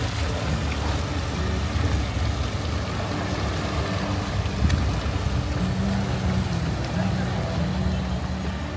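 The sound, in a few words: boat engine in a small-boat harbour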